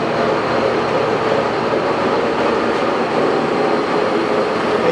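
A Jet 16 x 60 gap lathe runs with its spindle at 870 RPM, giving a steady, loud, close mechanical whir and rumble that holds without a break, with no voices present.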